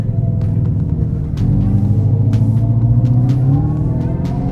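Dodge Charger EV accelerating with its simulated exhaust sound, a deep rumbling drone that rises steadily in pitch and loudness as the car pulls, heard from inside the cabin without talk.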